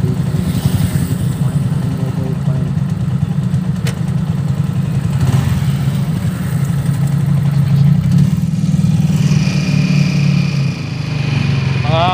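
Motorcycle cruising on a road near Angeles, Pampanga, its engine droning steadily and loud throughout with wind and road noise, close to the rider.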